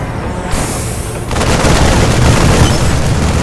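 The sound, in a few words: gun turrets firing, from video game StarCraft II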